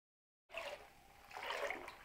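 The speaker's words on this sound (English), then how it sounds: "you can definitely hear the bubbles" Water in a filled bathtub with a LUSH Comforter bath product fizzes and trickles softly after a silent start, a faint, close, continuous bubbling hiss.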